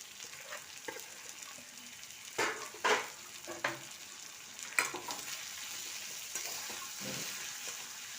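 Ground coriander, cumin, chilli and turmeric powders sizzle softly in a pan for chicken korma, with a steady fry hiss broken by several sharp spoon scrapes and knocks as the spices are stirred.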